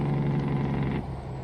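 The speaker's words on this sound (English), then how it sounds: "that Jake brake sounds so good" A truck's Jake brake in American Truck Simulator, a loud continuous low engine-braking drone that fades slightly near the end of a short burst.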